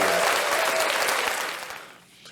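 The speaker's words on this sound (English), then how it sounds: "Let's give him an applause for that." Applause rises loud and fast, then thins and fades away within about two seconds, with a faint voice over it at the start.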